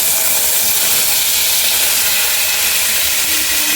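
Tomato dropped into hot oil tempered with whole spices for a festive-style chutney, giving a loud, steady hissing sizzle that runs unbroken and close throughout.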